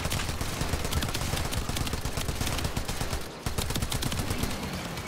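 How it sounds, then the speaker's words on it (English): Rapid, continuous gunfire from a hand-cannon-style pulse weapon in the Warframe video game, a dense stream of loud shots with one brief pause midway. "this one's like a pulse rifle, but hand cannon."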